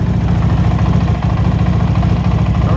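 Engine of a 2022 Honda CRF450RL dual-sport motorcycle fitted with an FMF exhaust, Vortex ECU and thermostat delete, idling steadily with a loud, close, even thumping pulse and no voices.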